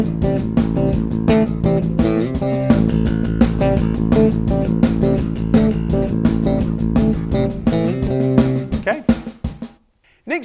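A drum beat from a bass lesson backing track plays steadily and close, with dense full-band texture throughout before it cuts off abruptly near the end.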